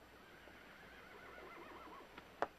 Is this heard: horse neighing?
yes